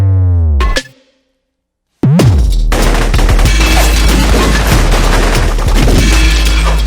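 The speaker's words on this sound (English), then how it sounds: "I wanted the guns to stick out, the shooting" Gunfire from The Matrix lobby shootout scene, with booming shots and rapid bursts over a heavy bass score. A tonal sweep fades to a second of silence, then dense, loud automatic fire continues to the end.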